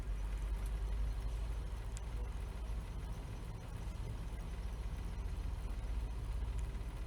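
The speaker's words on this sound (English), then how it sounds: "I'm gonna put in a low gear and then I'm going to try to move the truck forward softly" A semi truck and trailer sits in low gear straining against its set air brakes, a steady low diesel rumble that holds level throughout with no talking.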